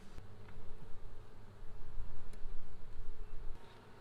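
Honeybees buzzing inside a hive during hobbyist queen rearing, a steady, close, low hum with a few faint clicks and rustles.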